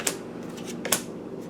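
A deck of tarot-style cards is shuffled by hand, with soft papery riffling and a couple of crisp snaps over a quiet room tone.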